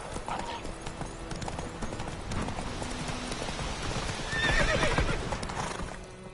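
A horse gallops in the video game The Witcher, hooves clip-clopping in a rapid rhythm, with a whinny near the end and a voice speaking briefly over the hoofbeats.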